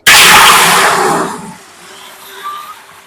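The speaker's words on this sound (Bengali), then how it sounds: "আগে তো পানি দিয়ে দিলাম পাতিলে" Water gushes in a loud burst for over a second into a cooking pot, then cuts off into quiet room sounds.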